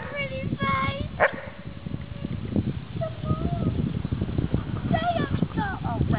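A dog growls and barks in short bursts with whimpering yips, close by, mixed with excited human voices and rustling throughout.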